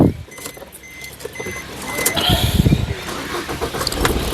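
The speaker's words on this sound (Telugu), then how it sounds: "సింగిల్ సెల్ఫ్లో కార్ స్టార్ట్ అవుతుంది" A 2015 Maruti Suzuki Swift Dzire LDI diesel cranks briefly and fires on the first try, settling into a close, steady rattling idle with a few louder bursts as it catches.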